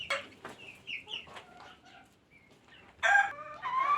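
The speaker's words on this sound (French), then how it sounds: "Là, on a un très beau coq." A rooster on a backyard hen farm crows loudly and close by, following a stretch of softer clucking and calls from the flock.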